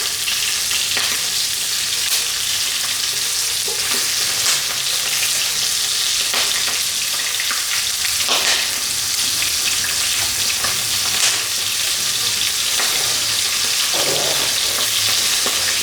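Shrimp frying in very hot oil, a loud, continuous, dense sizzle with a few scraping stirs, steady throughout without any voices.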